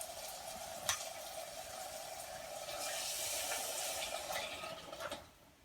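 Rinse water from a bean can pours steadily into a cooking pot for Jamaican stew peas, a continuous splashing hiss that swells midway then tapers off, with a faint clink near the start.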